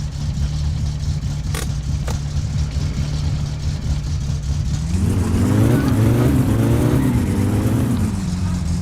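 Car engine revving in the My Summer Car driving game, a steady mid-pitched drone that climbs into rising, wavering revs in the second half, loud and continuous with no talk.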